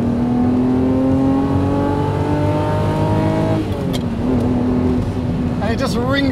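A 1988 Ferrari Testarossa at full throttle, its engine note rising in a long loud climb, then a brief dip at a gear change and the revs building again.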